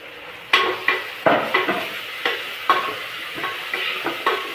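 Ginger, garlic, green chili and curry leaves sauté in a hot pan, a continuous sizzle broken by regular, fairly loud scraping stir strokes, with no talk.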